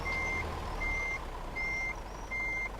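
Reversing beeps from a truck in Euro Truck Simulator 2, a steady steady electronic tone pulsing in four even beeps over a low engine rumble, clear and loud with no talk.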